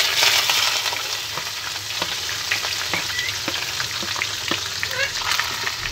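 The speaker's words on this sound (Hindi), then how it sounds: "सिवैयाँ डाल के हम इनको अच्छी तरीके से भून लेंगे।" Vermicelli (sevaiyan) frying in ghee in a kadhai, a steady, loud, close crackling sizzle throughout with faint scraping stirs and small pops, no voices.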